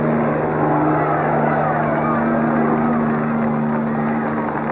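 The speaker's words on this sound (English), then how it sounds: "Land the goddamn helicopter." A helicopter hovers overhead at a race finish, a loud continuous rotor and engine drone with a steady low hum, while voices shout over it.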